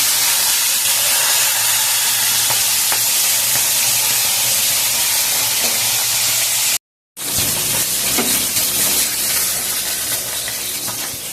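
Fresh foli fish heads and pieces fry in hot oil in a Bengali home kitchen, a loud, continuous close-up sizzle and hiss that breaks off briefly near the middle and then resumes.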